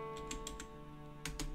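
Numbers tapped out on a computer keyboard: a quick, irregular run of close, crisp key clicks, with a final pair of firmer strokes, over a faint steady hum.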